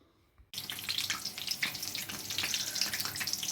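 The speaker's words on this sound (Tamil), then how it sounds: "எண்ணெயில் நம்ம மிளகாய் பஜ்ஜி போட்டிருக்கோம்." After a quiet half-second, chilli bhajji fritters drop into hot oil and burst into a loud, bubbling sizzle that crackles on steadily up close, with no voices.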